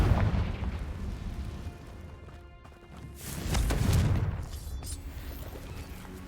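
Fire-blast spell explosions in Hogwarts Legacy: a loud booming blast at the start, then a second deep rumbling burst midway, with crackling fiery texture between and no talk.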